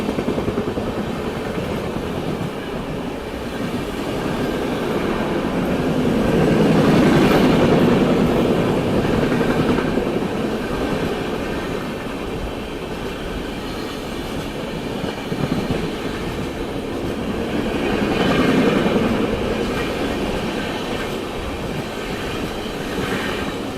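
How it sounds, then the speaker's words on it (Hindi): A passenger train runs at speed on an Indian rail line while another train overtakes on a parallel track, giving a steady roar with clattering wheels that swells twice as the cars pass. "यहाँ तो बिल्कुल पैरेलल में ये ट्रेन ओवरटेक कर रही है।"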